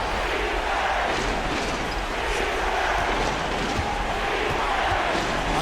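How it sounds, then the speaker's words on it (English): Arena crowd cheering in a Euroleague basketball video game, a dense, steady roar of many voices at moderate loudness throughout, with no distinct individual talk. "And this gets the crowd energized."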